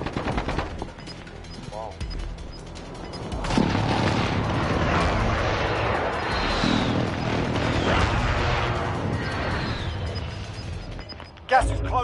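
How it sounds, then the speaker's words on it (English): Enemy precision airstrike explosions in a PS4 shooter rumble as a sustained barrage of heavy blasts and crackling gunfire, loud and dense for several seconds before a final sharp boom. Someone speaks briefly over it. "Enemy precision airstrike. Take cover."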